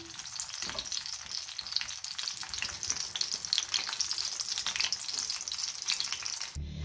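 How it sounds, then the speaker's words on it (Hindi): Shami kebabs fry in shallow oil in a pan, giving a steady, fairly soft crackling sizzle that runs continuously and close, with no talking. "मैंने कबाब फ्राई करने के लिए थोड़ा सा ऑयल डाला था"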